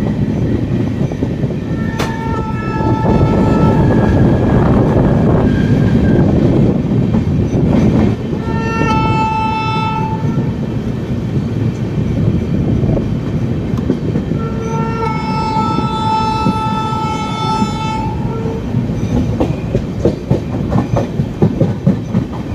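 The Chhattisgarh Express pulls into Raja Ki Mandi railway station in Agra, loud and close, with rumbling wheels and clattering cars and two long blasts of the train horn.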